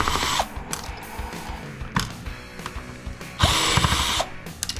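An electric screw gun removing screws from a circuit board during e-waste scrapping, with repeated short whirring bursts and ratcheting clicks, close and loud.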